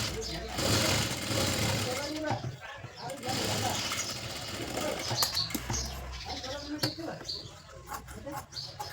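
A sewing machine stitches fabric in a steady, rapid mechanical whir. It runs quietly beneath a person talking throughout.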